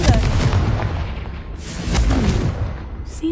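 A Confringo fire spell blast in Hogwarts Legacy erupts as a loud, booming burst with a rumbling tail, followed by a second blast, both dense and close, with some faint game sounds around them.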